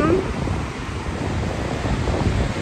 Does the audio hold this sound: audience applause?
no